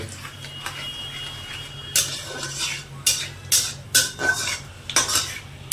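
Whole bay leaves and whole spices frying in a pan for a mutton masala curry: a low sizzle underneath sharp metallic clinks and scrapes of a spoon against the pan, coming in quick irregular bursts.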